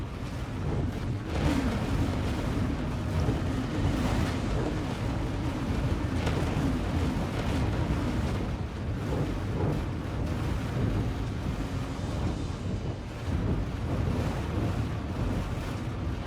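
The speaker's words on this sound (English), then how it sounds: "I'm a little too close to those explosions." Dense, continuous roaring rumble of explosions in the space game X4: Foundations, loud and close with low booming bursts layered under a constant wash of noise.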